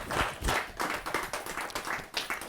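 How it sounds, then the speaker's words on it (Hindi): An audience applauds at a Hindi poetry and comedy night. The clapping comes in short rhythmic bursts and stays fairly quiet and brief throughout. "जोरदार ताली के साथ उनका अभिनंदन।"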